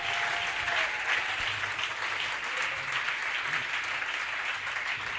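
A church congregation claps in praise of the Lord, steady sustained applause filling the room at moderate volume for the full stretch, no voices standing out.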